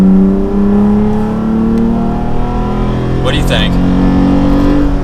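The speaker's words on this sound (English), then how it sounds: "So let's go ahead and pedal to the floor here." A third-generation Toyota Tacoma truck accelerating with the pedal floored, its engine drone climbing steadily in pitch and staying loud from inside the cab while a person speaks briefly over it.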